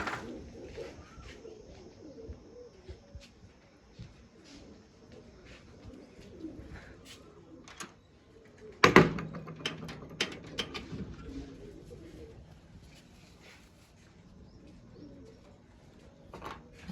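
Pigeons coo softly in the background, with a sharp clatter partway through and faint bird calls scattered around, as domestic pigeons are released to fly.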